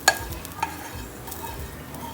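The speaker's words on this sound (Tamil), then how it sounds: "இந்த மாதிரி லைட்டாக வறுத்துக்குங்க தேங்காவை" Coconut being lightly roasted and stirred in a pan for kozhukattai filling, a steady soft scraping and faint sizzle with a couple of sharper clinks from the spoon near the start.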